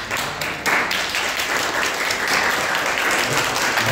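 A church congregation breaks into loud, sustained applause to welcome visiting guests, a dense wash of many hands clapping together without pause.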